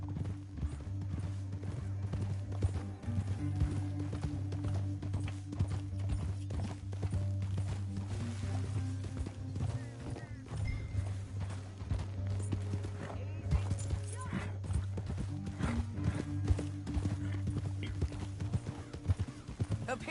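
Horse hooves clip-clop in a steady galloping rhythm through the whole stretch in Red Dead Redemption 2, a continuous loud drumming over a low rumbling score, with brief faint voices.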